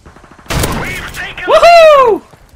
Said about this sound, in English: Oh yes, that is a shotgun.